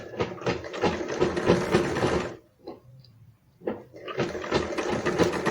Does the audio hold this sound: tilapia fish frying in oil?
no